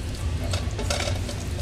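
A pan sauce is stirred over low heat in a stainless steel pan, with the scrape of a utensil against the metal over a steady, close sizzle.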